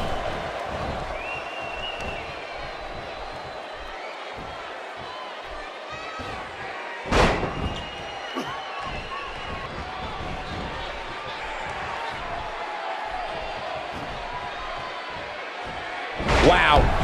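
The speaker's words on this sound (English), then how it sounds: "he just slammed him with ease" A wrestler body slam in the WWE 2K18 video game lands as a sharp, loud impact midway through, with a second heavy thud near the end, over a steady crowd roar and commentary.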